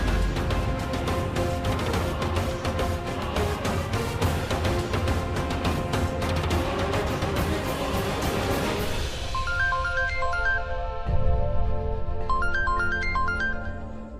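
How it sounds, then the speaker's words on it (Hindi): A mobile phone ringtone for an incoming call plays as a loud, busy melodic tune that thins into a bright, chiming jingle near the end, with no talking over it. "संजना का फोन"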